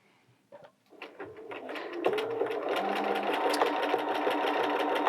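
A Bernina 325/335 sewing machine running a wide zigzag stitch, starting with a few clicks and then settling into a steady, close mechanical whir with a rhythmic ticking that builds and holds.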